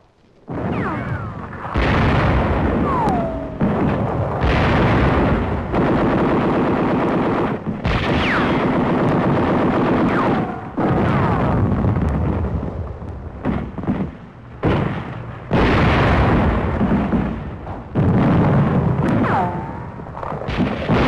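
Self-propelled 105 mm howitzers fire in a 1944 wartime newsreel, heavy booming blasts and sustained rumbling barrage sounds filling the track loudly with few pauses between bursts.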